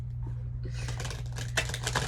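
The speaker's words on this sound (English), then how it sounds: "My hands aren't big enough to shuffle these cards." A small mini deck of tarot cards shuffled by hand up close, a dense papery rustle and riffle that builds after a quiet start and continues steadily over a low constant hum.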